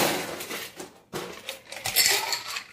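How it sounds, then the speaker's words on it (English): Ice cubes tumble into a metal cocktail shaker, two quick bursts of rattling clinks and knocks, close and fairly loud. "Add your ice."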